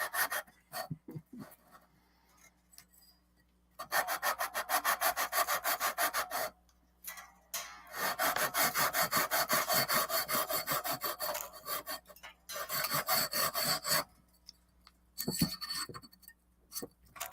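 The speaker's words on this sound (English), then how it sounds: "I'm filing the strings down." A metal file levels guitar frets with the strings still on, scraping in long rhythmic bursts of quick back-and-forth rasping strokes, close and steady, with short pauses between passes.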